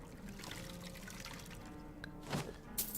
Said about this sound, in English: I'd like to have my water refilled, please.